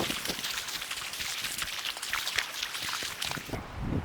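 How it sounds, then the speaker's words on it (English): Footsteps wading through shallow water in hunting gaiters, steady splashing and sloshing with each stride, close and fairly loud, without any talk. "So now I'm gonna actually walk through the water like I'm hunting."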